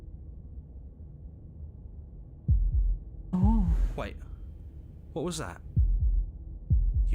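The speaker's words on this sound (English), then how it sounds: "That was the sound of a heartbeat" Slow, deep thudding heartbeats in Slay the Princess, several heavy low pulses spaced a second or so apart, with someone speaking briefly between them.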